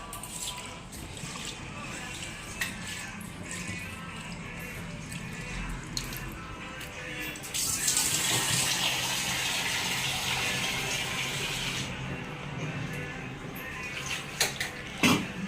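Water runs from a kitchen tap, steady at first and then gushing louder for several seconds in the middle before easing back, with faint clinks now and then.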